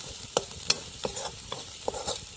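Spices fry in oil for a sev bhaji curry, with soft sizzling and about six brisk scraping stirs against the pan, close and fairly quiet and without speech.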